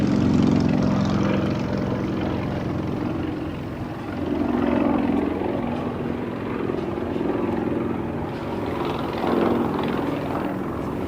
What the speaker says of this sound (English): its baby brother, the Su-26, being flown today by former world aerobatic champion Frenchman Xavier de Lapperance